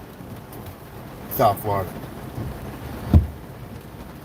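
Heavy rain falling in South Florida, a constant hiss of downpour beneath a man's brief spoken words and a couple of sharp nearby knocks.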